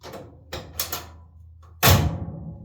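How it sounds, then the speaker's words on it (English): A door with no trim on a Ford Ranger pickup carrying a big-block engine swings shut with a single loud thunk, after a few lighter clicks and knocks nearby. "there's no trim around the door, so it shuts easy"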